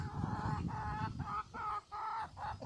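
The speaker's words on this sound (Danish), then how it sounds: "Det her er min høns." Backyard hens in a garden coop clucking steadily in close, repeated bursts with short pauses between calls, the flock loud and near with no voices over them.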